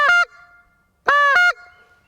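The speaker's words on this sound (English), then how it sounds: "Lower pitched honk, slower tongue." Two lower-pitched honks blown on a short reed goose call, each a sustained nasal tone with strong harmonics; a brief note, then a longer one about a second later, loud and close with no other sounds.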